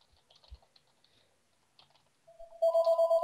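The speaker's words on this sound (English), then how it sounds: "And the phone's ringing." A phone starts ringing in a Minecraft game, its bright repeating electronic tone breaking in near the end after a stretch of quiet keyboard typing and clicks.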